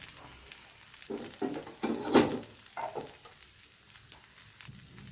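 A dosa frying in ghee on a hot pan, with soft sizzling and a series of short scraping, spattering bursts, close and fairly quiet, no talking.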